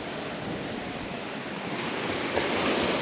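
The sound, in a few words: waves on the beach at Taiohae, Nuku Hiva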